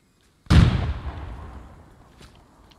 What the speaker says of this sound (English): Alright, we're still taking fire.